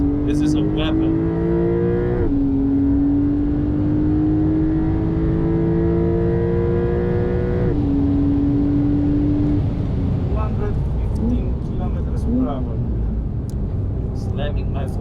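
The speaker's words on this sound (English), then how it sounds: "A 992 Carrera S on semi-slicks like this is a weapon." A Porsche 992 Carrera S on semi-slick tyres accelerates hard, its engine note climbing steadily through the gears with quick shift breaks, loud and close from inside the car throughout.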